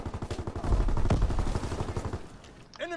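Rapid automatic gunfire from the video game Call of Duty WW2 on the Shipment map, a dense burst of loud shots for about two seconds that tails off, with a short tonal game effect at the end.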